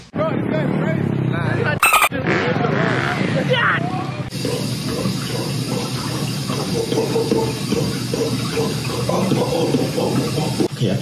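Water pours steadily from a rain-style shower head in a new shower, a continuous hiss that runs close and even under a person talking, with a brief sharp burst near the start.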